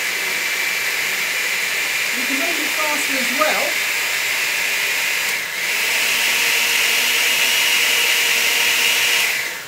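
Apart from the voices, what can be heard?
blender running while making a fruit smoothie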